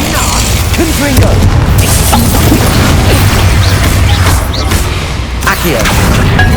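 Heavy explosive blast of the Confringo fire spell in Hogwarts Legacy, a loud, dense rumbling boom that fills the whole span with sustained low-end roar and crackling debris, bursts layered over continuous combat noise.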